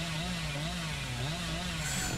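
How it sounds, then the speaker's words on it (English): Hillbilly's chainsaw in Dead by Daylight revs in a steady, droning buzz with a wavering pitch, loud and continuous for the full couple of seconds with no talk over it. "I've never seen my chainsaw go that crazy"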